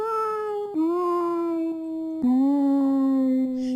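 Slowed-down Scratch cat meow stretched into a long, deep, howling tone that steps down in pitch in stages and sounds almost like a dog's howl, steady and loud throughout.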